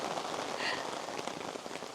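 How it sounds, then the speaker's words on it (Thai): Heavy rain pours down outdoors near a bridge over a river in Shirakawa-go, a dense, constant hiss of drops striking surfaces, loud and close with no gaps. "ฝนตกหนักมากเลยตอนนี้"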